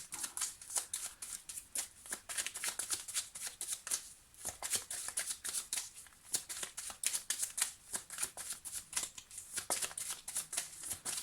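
A deck of tarot cards is shuffled continuously, a rapid rhythm of crisp riffling slaps and flutters, close and fairly loud throughout, with no voices.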